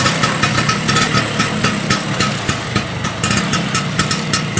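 A 1995 or 1987 Vespa scooter engine runs steadily and close, with a crisp, raspy, racing-tuned note and slight revving pulses throughout, and no voices over it.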